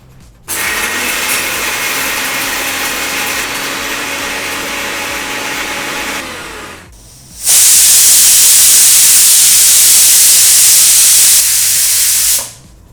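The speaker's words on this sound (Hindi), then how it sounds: "चलिए इसको अब ग्राइंड कर लेते हैं।" A mixer grinder grinds roasted sambar spices into powder in two loud runs. The first is a strong whirring roar of about six seconds. After a short pause comes a brighter, harsher high-pitched whine lasting about five seconds.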